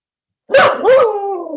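A dog gives two loud, close barks in quick succession, and the second trails off into a drawn-out whining tone.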